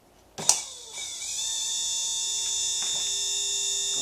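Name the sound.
Stargate motor running with high torque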